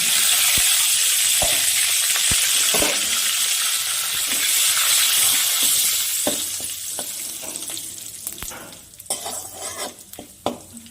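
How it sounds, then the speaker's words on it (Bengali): Whole cumin seeds and bay leaves sizzle in hot mustard oil, a steady bright frying hiss with scattered stirring clicks and knocks from a pan, easing toward the end as scraping taps grow more prominent. "আমি ওই তেলের মধ্যে ডিমের ঝোলের জন্য ফোড়ন করে নিচ্ছি তেজপাতা, গোটা জিরে"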